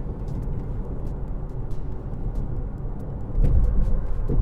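A 2018 Toyota C-HR cruises down the highway with a steady low road and engine rumble and tyre noise, swelling louder toward the end as the car brakes from around 50.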